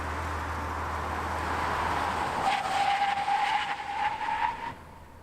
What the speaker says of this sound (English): Now here's an SUV or crossover, same thing, from 60 miles an hour, full emergency stop to 0.